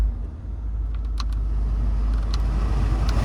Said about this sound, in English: Every speed on the blower motor there